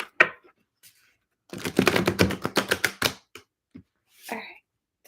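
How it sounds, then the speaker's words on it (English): Tarot cards shuffled by hand, a quick close burst of rapid riffling clicks lasting about a second and a half, set among a few isolated taps and soft handling noises in a quiet room. "I'm going to do 2 more shuffles"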